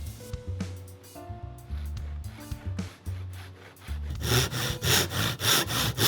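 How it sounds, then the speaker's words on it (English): Small wood pieces are sawn shorter by hand, starting with scattered knocks and scraping, then settling into quick, rhythmic back-and-forth saw strokes, close and fairly loud. "So I cut them shorter and gave a couple strokes to smooth the ends."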